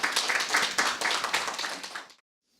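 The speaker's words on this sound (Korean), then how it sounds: "박수로 모셔주십시오" A small audience at a forum on rice claps briefly, a quick, moderately close burst of applause that stops abruptly after about two seconds.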